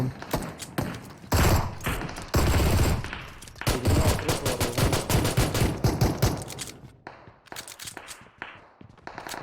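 Dense gunfire from the mobile battle-royale shooter PUBG Mobile during a pistol challenge: rapid automatic bursts and repeated close shots with mechanical clicks, loud and continuous before thinning into scattered single shots.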